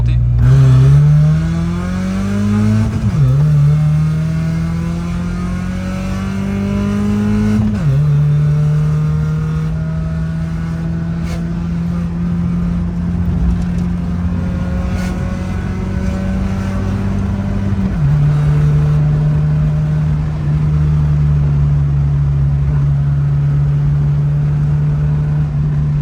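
A BMW 318i engine heard from inside the car as it pulls through the gears, rising drone climbing in pitch with clear upshifts, then holding a steady cruising hum for a long stretch, loud and close.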